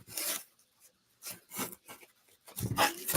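Scissors trim craft material for a Christmas ornament, making a few short rasping snips in separate bursts, close and fairly quiet.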